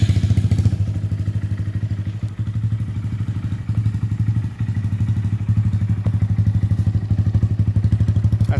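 A Honda motorcycle fitted with an aftermarket exhaust idles steadily throughout, its low, even chugging pulse loud and close with a few brief dips in the rhythm and no talking.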